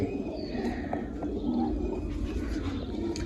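Pigeons coo softly at close range in a loft, a steady low murmur of repeated calls with a few faint chirps over a constant background hum.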